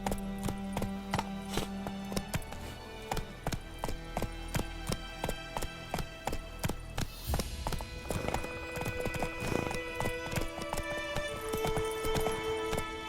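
The horse Roach gallops in The Witcher 3 with steady, rhythmic hoofbeats close by, accompanied by a brief whinny and faint game music underneath.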